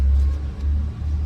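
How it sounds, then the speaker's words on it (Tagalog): A Honda PCX 150 scooter idles close by, giving a steady, smooth low rumble with no revving and no talk. "tunog ng makina. Medyo kalmado na ang andar ni Honda PCX ko."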